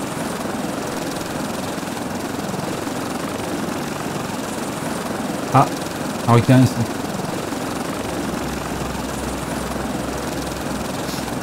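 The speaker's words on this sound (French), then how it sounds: "je sais pas si vous m'entendez avec le bruit du moteur" Gyrocopter engine in the survival video game Stranded Deep, a steady loud rotor-and-engine drone running throughout, with someone speaking briefly over it.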